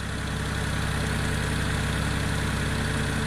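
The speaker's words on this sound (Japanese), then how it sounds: "結構電動ファンは勢いよく回っているんですけど" An electric radiator cooling fan spins hard in a car with over 200,000 km on it, giving a steady, loud, close whir with an engine-like hum underneath, alone and unbroken.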